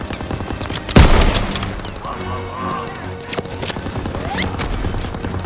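Machine gun fire on the D-Day beach in Call of Duty WW2, a loud burst opening with a heavy crack, then rattling shots continuing amid battle noise and shouted voices.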